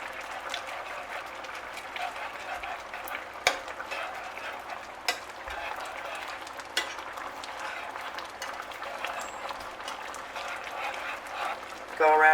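Brown gravy in a pan is whisked and brought back toward a boil, giving a continuous soft scraping and bubbling hiss with a few sharp metal taps. A person talks over it.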